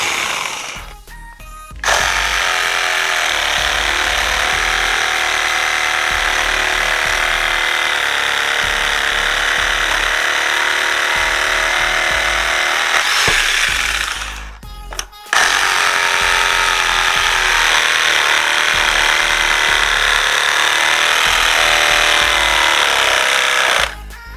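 A FLEX one-hand cordless reciprocating saw cuts steadily and loudly up close in two long runs separated by a brief pause, its buzzing motor and rapid blade stroke holding a constant harsh pitch throughout.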